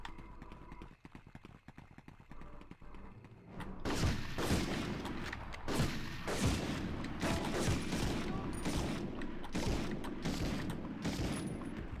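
Rapid gunfire in the PS1 video game Medal of Honor, mission 2: after a few seconds of scattered sharp shots, dense bursts of loud automatic fire crack repeatedly and continuously.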